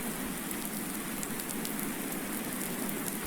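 Steady rain in Farming Simulator, falling on a snowy farm as a dense, even hiss of drops on surfaces that stays loud and constant throughout, with no talk.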